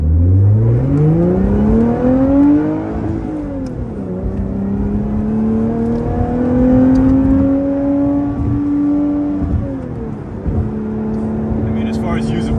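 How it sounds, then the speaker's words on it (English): A 2017 Lotus Evora 400 PTS cruising on a highway, heard from inside: a steady engine drone rising in pitch through several gear pulls, with brief dips at the shifts, loud and continuous over road and wind noise. "Here we'll do a little highway cruising for you."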